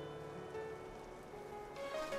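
Light rain falls in a PS5 visual novel, a soft continuous patter on surfaces with faint tonal game music threading through and no speech.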